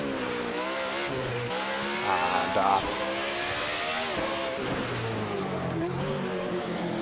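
BMW 134 race car in Assetto Corsa, a hill climb run, engine droning steadily through a corner with brief tire squeal near the middle, under continuous talk by a commentator.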